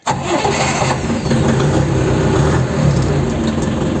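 A Dongfeng 404 tractor engine cranks and catches, then settles into a loud, steady running rumble close by after an oil and fuel filter change, with no talk over it.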